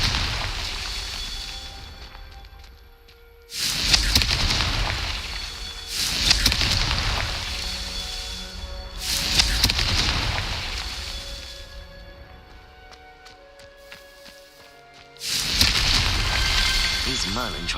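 Confringo blasting spells explode in Hogwarts Legacy, four heavy booming blasts spaced a few seconds apart, each loud and rumbling before fading into quieter game ambience.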